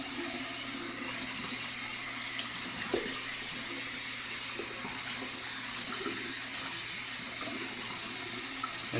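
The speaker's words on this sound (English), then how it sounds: "Rinse, give it a good rinse." Water from a tap rinses steadily down a freshly unclogged sink drain, a continuous close splashing rush with small gurgles and no voices.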